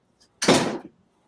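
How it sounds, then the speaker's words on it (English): A door pushed shut indoors, one brief whooshing swing ending in a soft closing thud, fairly close and loud against a quiet room. "close my door, puppy, please. Close the door."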